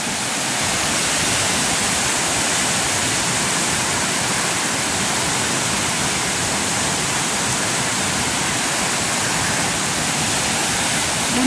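Floodwater rushes loud and unbroken, a dense roaring torrent close by, carrying bamboo and coconuts along with it, with no voices over the steady wash.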